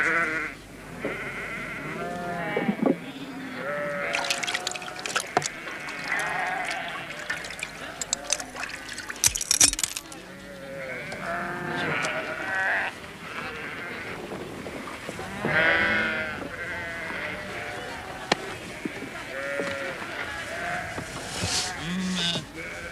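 Sheep bleat repeatedly in a pen during an anthrax vaccination trial, several calls overlapping at close range beneath a trickle of background noise and some talking.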